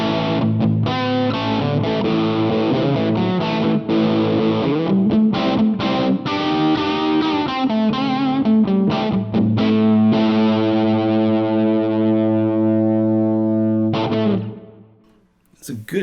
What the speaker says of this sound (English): I am going to the Humble amp, and we've got just a little bit of dirt, a little bit of grunt on this guy